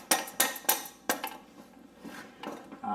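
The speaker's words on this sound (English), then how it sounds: "this is just a little plastic hammer" A small 8-ounce plastic hammer taps on a car part during an Audi A4 2.0T crank pulley replacement: sharp close knocks, several in quick succession, then softer, more scattered taps.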